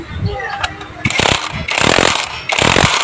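An impact wrench works loose a motorcycle bushing in three loud, close, rattling bursts, each about half a second long, separated by brief pauses.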